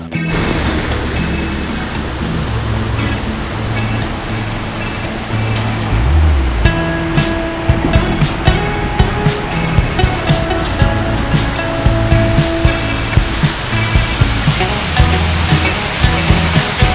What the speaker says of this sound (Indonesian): Air terjun ini sangat indah dan juga airnya sangat jernih